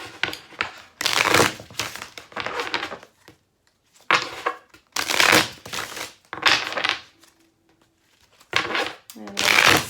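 Tarot cards shuffled by hand for a monthly spread, producing several bursts of dry riffling and crisp card slaps close up, separated by short pauses.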